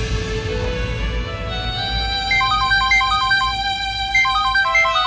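A phone ringtone plays loud and close, a repeating electronic melody of bright tones over a low background hum, with no one speaking.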